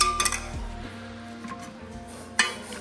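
A few light metallic clinks and taps on a metal cooking pot, scattered and fairly close, with a soft scraping in between while oil is spread around the pot for making sarva pindi.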